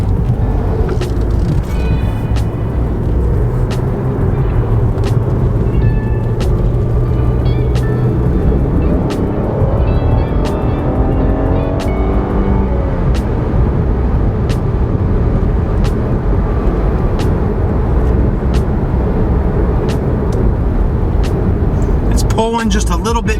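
A Cadillac XTS sedan with over 200,000 miles cruises on a city street, its steady road and engine rumble running throughout beneath someone talking inside the cabin.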